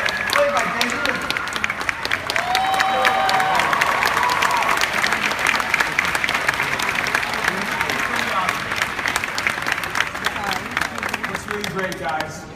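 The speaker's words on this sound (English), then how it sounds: "please give a round of applause for Finn, played by John Boyega, as well as Rey, played by Daisy Ridley." A large audience at a Disney D23 Expo panel claps and cheers in sustained, loud applause that fills the hall, with an amplified voice carrying over the crowd.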